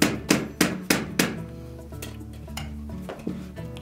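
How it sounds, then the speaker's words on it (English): A small soft face hammer gently tapping the ice chute housing of a Frigidaire refrigerator, giving several quick, distinct knocks in an even rhythm followed by softer, more scattered taps, close and clear. "Now you may use a small soft face hammer and just tap that gently."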